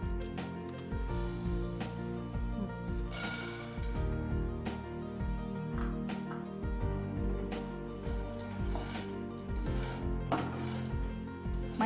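A pan clatters and scrapes on a home kitchen stove, set up for dry-roasting peanuts, with irregular metallic knocks and clinks against a steady background, fairly close and moderately loud, no talk.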